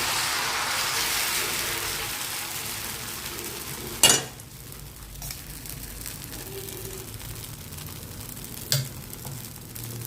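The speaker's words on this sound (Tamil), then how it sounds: "நார்மலாக இருக்கக்கூடிய தோசை மாவு மிக்ஸ் பண்ணி இன்றைக்கி தோசை ஊற்றி காலி பண்ணிடலாம்" Dosa batter sizzles steadily on a hot pan, a continuous close frying hiss with two sharp clatters of a utensil along the way.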